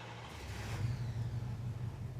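A 1953 Buick Skylark engine idles steadily after starting, a low rumbling drone that swells slightly and holds close and moderately loud, with no voices.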